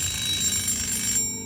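A red coin-operated public telephone on a first floor rings in the visual novel Ikikoi, a steady electronic trill that fills the short moment and then cuts off abruptly near the end.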